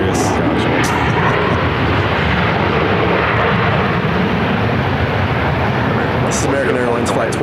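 An American Airlines A321 arriving from Charlotte gives a loud, continuous broadband engine roar that holds steady throughout, close and dominant.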